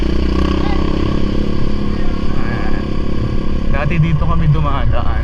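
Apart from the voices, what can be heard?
motorcycle passing by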